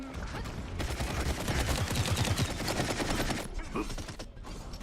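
Dense, continuous automatic gunfire from a video game rattles for several seconds as a rapid barrage, then thins out near the end.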